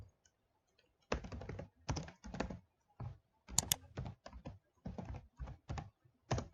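Someone types on a computer keyboard in short bursts of quick clicking keystrokes separated by brief pauses, close and fairly quiet, with no voices.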